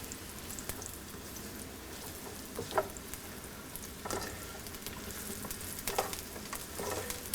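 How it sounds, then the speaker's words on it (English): Mushrooms sauté in a pan for a from-scratch green bean casserole, a quiet continuous crackling sizzle with occasional light taps and stirring clicks, no talking. "we're just going to drop in the mushrooms. You want to cook these down probably 8 to 10 minutes."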